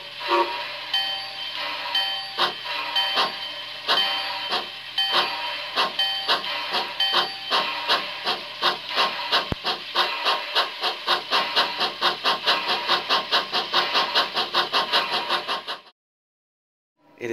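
A model railroad locomotive's onboard sound system is played through a big external speaker, giving steam-engine chuffing that quickens into a rapid rhythmic beat, with hissing, before cutting off abruptly near the end.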